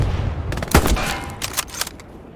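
Gunshots and distant combat in Hell Let Loose during a Soviet infantry battle at Kursk: a loud close shot followed by scattered fainter cracks and a rumbling low backdrop.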